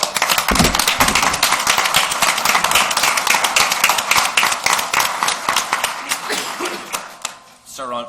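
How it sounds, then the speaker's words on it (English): People at a township council meeting break into applause, a dense patter of many hands clapping at close range that thins and tapers off near the end, with voices murmuring underneath. "I think we all deserve a round of applause."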